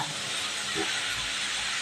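A pressure cooker of rice or vegetables on a home kitchen stove lets out a steady, loud hiss of escaping steam that runs unbroken throughout.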